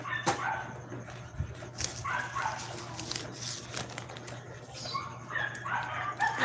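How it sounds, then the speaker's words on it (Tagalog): A dog gives short yips and whimpering barks in a home setting, moderately near, spread across the clip in brief irregular bursts with background hum. "Oo, may aso talaga kami."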